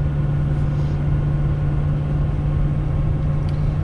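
A pickup truck towing 30,000 lbs climbs a hill in 8th gear, its engine giving a loud, steady low drone with constant road rumble and no break.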